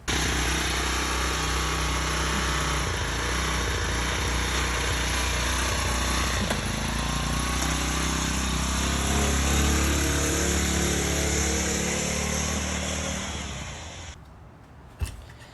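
A homemade bicycle fitted with a Honda GX50 knockoff four-stroke engine runs at a steady, buzzy idle up close, then cuts out near the end.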